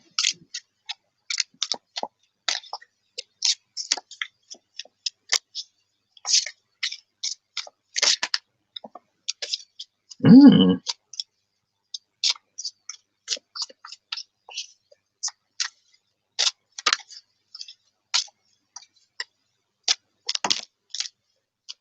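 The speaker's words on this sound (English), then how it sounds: "I'm just gonna keep shuffling until it comes up." Tarot cards being shuffled by hand, heard as crisp, scattered clicks and riffles in irregular bursts, close and dry in a quiet room, with one brief duller thump near the middle and no talk.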